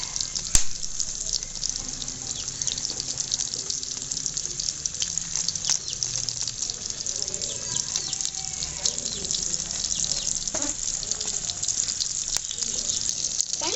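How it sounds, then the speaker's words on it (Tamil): Fish frying in hot oil in a small pot gives a steady, bright hissing sizzle that carries on without break, with faint clicks and a voice now and then. "நல்லா நம்ம மீனை வறுத்துக்கலாம்"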